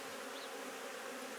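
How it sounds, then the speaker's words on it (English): Worker honeybees buzz at the hive in a continuous, faint drone of many wings, steady and unbroken with no voices over it. "we've got enough worker bees out for now."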